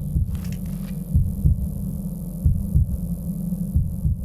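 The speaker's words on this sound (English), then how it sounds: "I hear the heartbeat though" Heartbeat pulsing through a LIDAR exploration game, a low thumping double beat that repeats steadily at moderate loudness over a soft ambient hum, with no talking.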